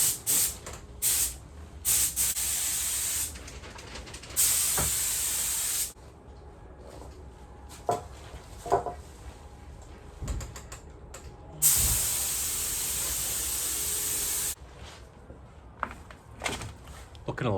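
Loud bursts of spray paint hissing outdoors in strong wind without a spray booth, a few seconds each, with pauses filled by clattering handling noises and occasional talking.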